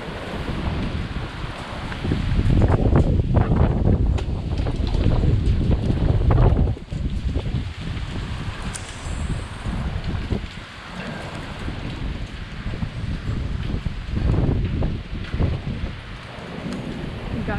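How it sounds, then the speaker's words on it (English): Strong gusts during a storm in California roar against the microphone in heavy surging waves, loud and close, rising and falling over the whole stretch. "wind speed is supposed to be 30 miles per hour today"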